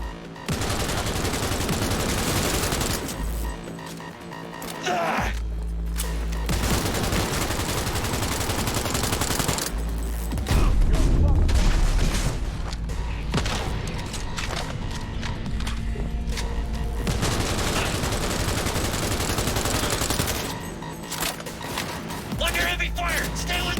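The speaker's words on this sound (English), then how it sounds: "Under heavy fire!" Heavy gunfire in the Cyberpunk 2077 video game on very hard difficulty: dense, loud bursts of automatic fire and rapid shots roll on almost nonstop, broken by short lulls and heavy thuds.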